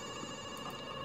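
A telephone rings steadily on its own at low level, a dense, even electronic tone sustained through the whole short stretch with no pauses or voices.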